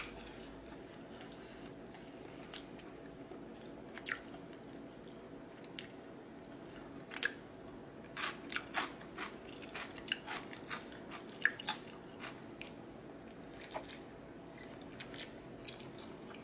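Someone eating rice noodles with cucumber salad, with soft wet chewing and scattered crisp bites heard close over a steady low background, no talking.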